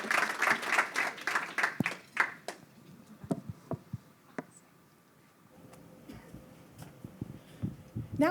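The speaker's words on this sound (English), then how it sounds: "Please, everyone, give our panel a round of applause and to say thank you." A conference audience applauds a panel at a breakfast event, a brief burst of clapping that thins out into scattered individual claps and light room noise.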